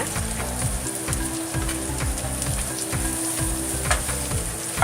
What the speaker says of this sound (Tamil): அதனால் இது தனியாக ஃப்ரை பண்ணுறேன்